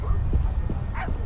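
Dogs barking in the horror game My Friendly Neighborhood, a few short yips and barks over a low rumbling game background, fairly near, with no talk.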